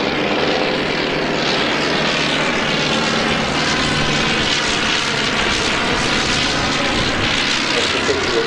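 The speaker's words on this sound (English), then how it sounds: "The Avro fighting machine that I mentioned, just taken to the skies now, this biplane trainer and night fighter" The rotary engine of a 1918 Avro 504K biplane trainer and night fighter drones continuously in flight at an air pageant, loud and sustained throughout.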